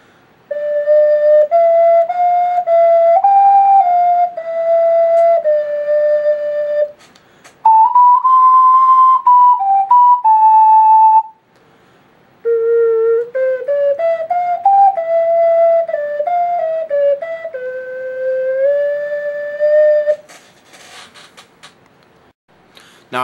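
Clear, pure tones from a Maparam STL ocarina play melodic phrases with brief pauses between them, climbing into a high register with gentle vibrato.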